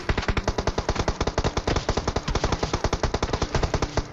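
Enemy gunfire in PUBG rips out as loud, continuous automatic bursts, a rapid, steady stream of closely spaced shots with no pause and no talk.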